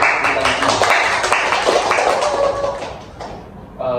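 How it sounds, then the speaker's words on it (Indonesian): A small group of students clapping in a classroom counseling session, a brisk burst of many overlapping claps that gradually thins out and fades near the end. "Sebelumnya kasih tepuk tangan dulu."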